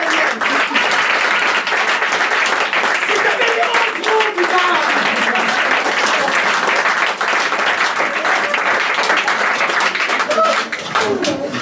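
An audience in Aix-en-Provence applauds in a thick, steady burst of clapping lasting the whole stretch, with some voices murmuring beneath it.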